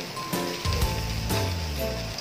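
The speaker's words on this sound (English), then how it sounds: "you will just saute until our cabbage becomes half cooked also." Cabbage sautéing in a hot pan for vegetable spring rolls gives a steady sizzle, broken by a few louder stirring scrapes and surges, close and fairly loud.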